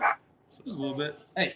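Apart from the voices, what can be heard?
small terrier dogs barking in the background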